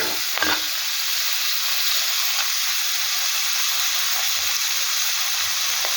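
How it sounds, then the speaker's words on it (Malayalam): Cloves and cardamom frying in hot oil for a Kerala-style beef roast give a steady, close sizzle with a dense crackling hiss throughout and a brief louder spatter near the start. "ആ ഗ്രാമ്പു ഏലക്കായിട്ട് ആ എണ്ണയിലോട്ട് ഞാൻ കൊടുത്തിട്ടുണ്ട്."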